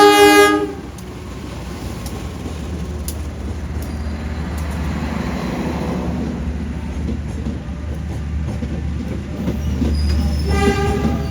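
Jaka Tingkir passenger train, hauled by a CC 201-series locomotive, sounds a loud horn blast as it arrives, then rumbles steadily past, and the horn sounds again at the end.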